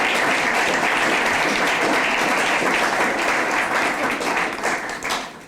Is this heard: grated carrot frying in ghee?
no